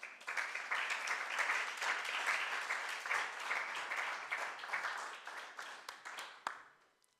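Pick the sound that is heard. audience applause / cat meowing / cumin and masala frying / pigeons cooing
audience applause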